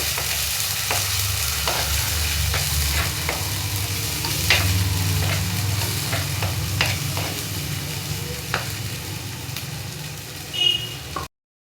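Egg bhurji fries and sizzles in a pan while it is stirred, a loud steady sizzle broken by regular scraping taps of the spoon against the pan.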